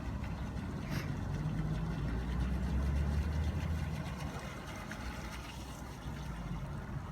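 Low, steady hum of a small CAMRAD 800 fishing bait boat with a Falcon 5010 motor cruising at low speed on an automatic return route near shore, a continuous even drone with faint water noise.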